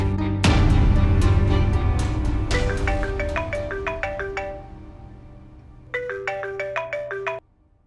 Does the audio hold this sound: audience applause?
no